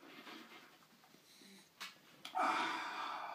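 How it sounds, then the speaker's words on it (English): A few short nasal sniffs, then a sharp, forceful inhale of snuff through the nose, close and breathy, with no talking. "And then the sniff."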